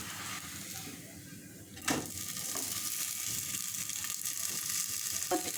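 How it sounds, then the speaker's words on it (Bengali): A flipped breakfast snack fries in a covered pan with a steady, close sizzle, marked by a sharp clatter near the start and a few lighter knocks later, with no one speaking. "এখন নাস্তাটাকে উল্টিয়ে দিচ্ছি"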